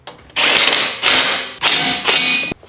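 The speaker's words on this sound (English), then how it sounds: "Okay, we're just gonna tighten this down." A hand ratchet tightening bolts on a part fitted to a BMW M5, four loud close bursts of fast clicking separated by brief pauses.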